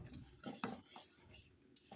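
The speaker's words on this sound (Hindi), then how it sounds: "ये हम तिल डाल रहे हैं, ये तिल डाल दिए। अब इसे चलाएँगे।" White sesame seeds being dry-roasted and stirred in a pan for til chikki, heard as quiet scattered scraping and light clinks of a spoon against the pan.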